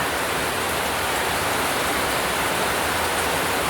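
Heavy rain pours down steadily as a dense, continuous broadband hiss with no breaks, loud and close throughout.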